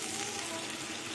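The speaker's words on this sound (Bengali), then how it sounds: "এবার জল দিয়ে দেবো।" Water poured into a hot pan of bhola fish curry sets off a brief, steady hissing sizzle at moderate loudness.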